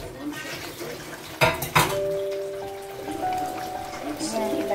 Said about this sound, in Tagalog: ilagay ko na po siya sa ating serving bowl.